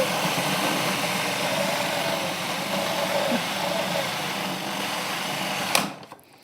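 A food processor chops vegetables with a loud, steady whirring drone that runs for several seconds, then cuts off sharply near the end.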